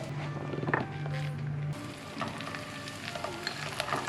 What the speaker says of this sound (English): I don't think I've ever cooked bread in oil before. We're just toasting it.